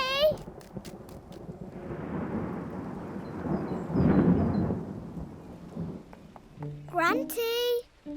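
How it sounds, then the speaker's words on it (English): Cartoon summer thunderstorm: a long swelling rumble of thunder peaks midway over steady rain, with children's voices talking at the start and again at the end. "It's only a summer thunderstorm."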